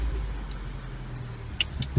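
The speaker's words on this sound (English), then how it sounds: "a good rattle off the engine" A MINI John Cooper Works GP engine idling just after start-up, a low steady rattly rumble heard from close range, with a couple of brief sharp clicks near the end.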